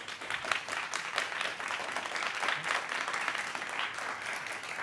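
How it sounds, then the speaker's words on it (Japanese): Sustained applause from a crowd at a student-run digital music and arts live event in Japan, a dense, even clapping texture at moderate volume with no voices. "ぜひ大きな拍手をお願いいたします。"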